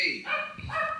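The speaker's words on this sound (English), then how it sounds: "What a foolish dog. Barking at nothing." A dog barks in an indoor, house-party setting, giving a quick couple of yappy barks close by, mixed with voices talking and shouting around it.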